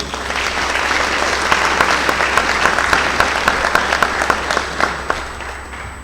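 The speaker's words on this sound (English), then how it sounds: "So please, a round of applause to welcome the owner of Robbie Robertson Ford, Mr. Robbie Robertson." Sustained applause from a crowd at a sports awards ceremony, a steady wash of clapping with a few sharper claps standing out, moderately loud.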